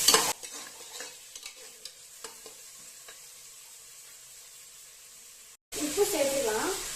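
Chopped onions stirred and sautéed in a pan for green hariyali chicken, with faint scraping and sizzling for most of the stretch, then a louder, denser frying burst near the end.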